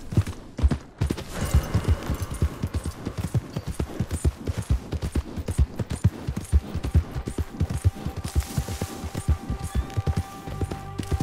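A horse gallops through Valentine in Red Dead Redemption 2, its hooves striking in a fast, steady clip-clop rhythm that is loud and close, running on without pause.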